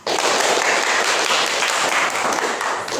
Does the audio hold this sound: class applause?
yes